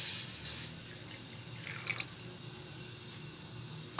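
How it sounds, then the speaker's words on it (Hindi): Water poured into a pot holding half a litre of milk, a soft trickling splash near the start followed by light dripping and faint liquid movement, quiet and close. "एक बर्तन में आधा लीटर दूध लेंगे और इसमें ये पानी ऐड कर देंगे।"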